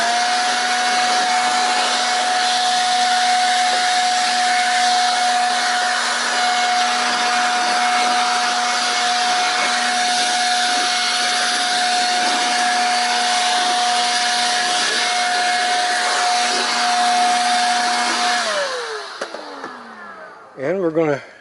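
A blower clears debris off a lawn mower with a loud, steady rushing roar and a constant whine, running close for most of the clip before winding down with a falling pitch near the end.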